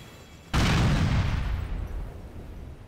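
A loud explosion goes off in the Grand Theft Auto IV video game, a sudden broadband blast that hits at full force and then slowly rolls away into a long fading rumble, with no voices over it.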